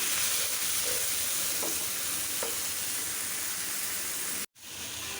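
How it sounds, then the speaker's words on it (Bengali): A spice mixture stir-fried in a pan gives a steady, close hiss of frying with a few soft stirring scrapes. The sound cuts out briefly near the end before resuming. "এখন একটু কষিয়ে নিই"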